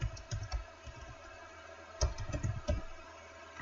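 Computer keyboard keys pressed during coding work, scattered clicks and clusters of taps with quiet pauses between, close and soft.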